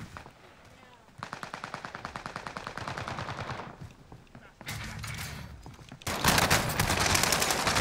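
Call of Duty: Warzone gunfire: a long rapid automatic burst of evenly spaced shots, a short pause, then louder heavier bursts of fire close by, with a voice speaking faintly in places.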